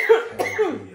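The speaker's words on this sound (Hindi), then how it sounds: "खांसी बंद नहीं मेरी" Two or three hoarse coughs in quick succession, close and fairly loud, with a faint low hum underneath.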